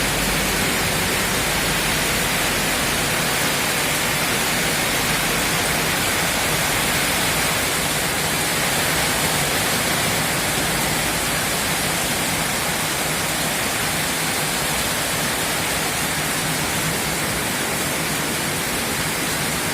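Heavy rain pouring down in Banda Aceh, in the Lam Semeru area, a steady, dense hiss that fills the whole clip at constant loudness with no voices.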